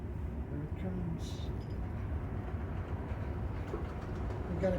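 A train with a caboose passes at night on a Union Pacific/Metra line outside Chicago, giving a faint, steady rumble with light clatter from the cars, heard from a distance.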